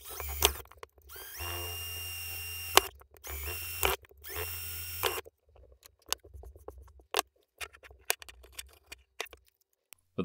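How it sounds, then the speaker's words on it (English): A power drill bores half-inch and quarter-inch holes in an Atari 2600 case, with long whining runs of the motor. Scattered clicks and plastic rattles follow once the drilling stops. "I'm drilling a half inch hole for the S video port, then a quarter inch hole for all the others."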